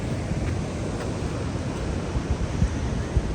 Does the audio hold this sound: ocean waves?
yes